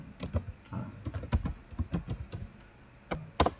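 Computer keyboard typing a prompt into Canva Magic Write: short, close bursts of crisp key taps, a brief pause, then a few more quick strokes.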